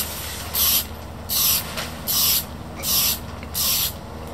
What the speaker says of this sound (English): Now I'll give it a touch of etch primer spray just to seal it all up